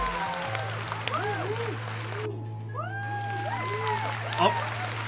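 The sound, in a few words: crowd cheering and applauding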